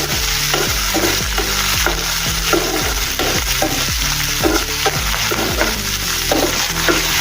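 Garlic cloves and green chilies stir-fried in hot oil for an eggplant dish, with a steady loud sizzle and repeated scraping strokes of a spatula against the pan, close up and without speech.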